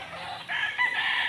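Rooster crowing amid a flock of backyard chickens with chicks, a bright, strained call that swells and holds across the short moment, fairly close and loud over a steady barnyard background.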